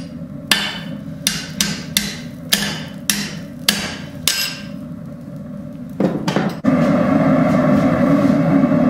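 A hammer strikes hot steel on an anvil while forging blacksmith tongs, about ten sharp ringing blows in an uneven rhythm, close and loud, followed by a steady roaring hiss.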